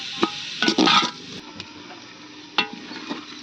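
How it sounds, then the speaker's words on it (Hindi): Onions frying in oil in a pan for a desi chicken curry, with a spoon stirring and scraping in a few loud bursts over a quiet low sizzle. "बर्तमान हम पियाज को भल भाव तेल रे फ्राए करनवा ब्राउन हवा पर्यंत।"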